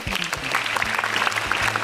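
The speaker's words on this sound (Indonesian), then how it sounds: "sekali lagi tepuk tangan buat Cing Abdel" A stand-up comedy competition audience at SUCI X gives loud, close applause for a contestant, a thick sustained roar of clapping with individual claps standing out, a voice faintly under it.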